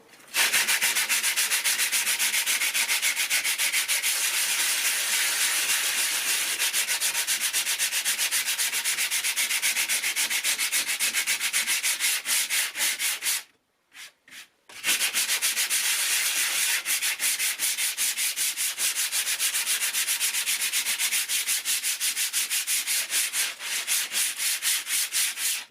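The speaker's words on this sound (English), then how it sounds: "give this a sand just to see how well it does sand" Bartoline all purpose filler being hand sanded: a loud, continuous scratchy rubbing with fast back-and-forth strokes, broken by one short pause.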